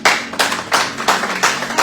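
A church congregation clapping in rhythm to acclaim the Lord during a family worship service, loud, close bursts of many hands with a steady repeating beat across the whole stretch.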